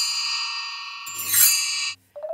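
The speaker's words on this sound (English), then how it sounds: "bell tree" A shimmering metallic ring of a bell tree, a bright cascade of high chimes sustaining and swelling, then cut off, followed by a short rising tinkle.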